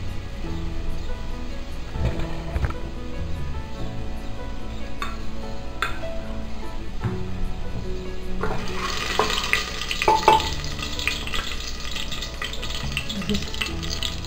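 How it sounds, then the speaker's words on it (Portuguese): Steady crackling sizzle of garlic frying in a hot pan, continuous and close, growing brighter partway through with occasional faint utensil clinks. "Então aqui tá um cheirinho bom aqui de alho fritando."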